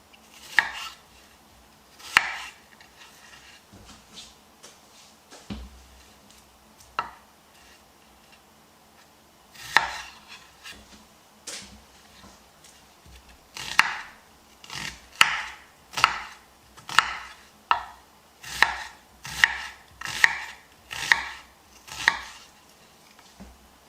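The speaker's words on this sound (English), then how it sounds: "So we're going to do a nice chop on our onion." A knife chops an onion on a cutting board: a few sparse cuts at first, then a run of quick, rhythmic taps close by.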